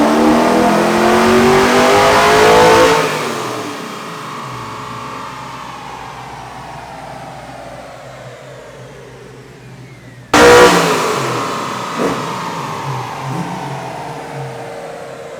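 A tuned car on a dynamometer during a power run, engine screaming up through the revs then dropping away, followed by a second loud sweep after a brief pause, close and without talk.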